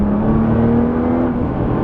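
A 2011 Nissan GT-R Premium's engine pulls hard under acceleration with a steady, loud drone from inside the cabin, sustained and even with no talking over it.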